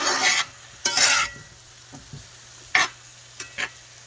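Ingredients for Jamaican seasoned rice with ackee and saltfish are stirred in a frying pot, with a loud scraping burst at the start, a second strong sweep, then softer scrapes and two short clinks under a steady background hum.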